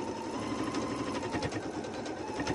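A sewing machine runs steadily to reinforce a stitch on stretch fabric for a peplum top, a close, continuous mechanical whir with fine rapid ticking and no pauses.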